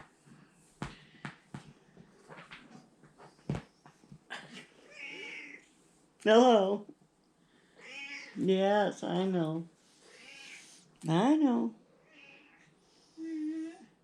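A pet cat meows repeatedly at close range, several drawn-out, wavering cries spaced through the stretch, with a person talking to it between the meows.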